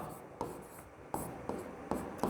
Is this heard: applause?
no